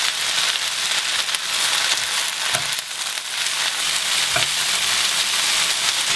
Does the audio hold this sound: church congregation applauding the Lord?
no